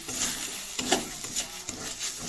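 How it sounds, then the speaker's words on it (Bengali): Spices and masala for a rohu fish curry fry in a pan, a soft sizzle with intermittent scraping stirs, fairly quiet and close, with no talking. "এই যে এখন সুন্দর করে এখন ফ্রাই করবো আরো কিছুক্ষণ"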